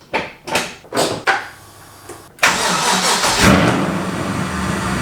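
A 2015 Chevrolet Silverado with a Duramax diesel engine cranks over several times, then catches and settles into a steady loud idle close by.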